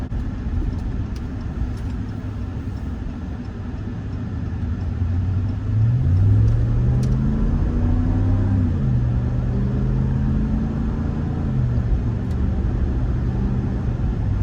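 A Ram 1500 Limited pickup with a 5.7 liter engine hums low while driving, then rises into a deeper, swelling engine note as it accelerates, heard from inside the cabin with no talking.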